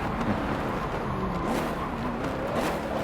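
A low, growling Porsche 928 GTS V8 engine hums and revs steadily at moderate volume in Forza Motorsport 7, with a synthetic, game-like quality and no voices.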